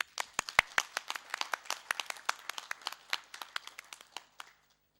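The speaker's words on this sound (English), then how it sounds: "If that is the case, we would applaud again." Meeting delegates applauding, a sparse patter of individual hand claps, fairly close and distinct, irregular and thinning out until it stops just before the end.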